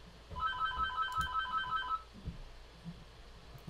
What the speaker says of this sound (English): hopefully somebody's gonna get that phone